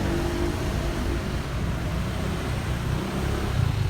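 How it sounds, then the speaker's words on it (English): Steady traffic rumble from cars passing at a busy road junction in Antibes, a continuous close wash of engine and tyre noise with no clear breaks. "Have to excuse the noise of the cars."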